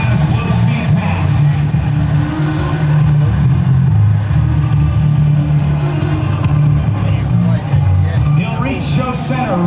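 An F-16 jet makes a slow-speed pass at an airshow, a steady, loud low roar rolling through the whole stretch while an announcer talks over it.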